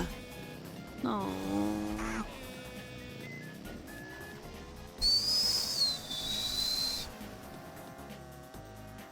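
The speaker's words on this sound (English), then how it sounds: "I tried doing the double dash whistle again." A double dash whistle sounds in the video game Mario Kart DS, a high, bright whistled tone over steady engine and kart noise, with shorter musical blips around it.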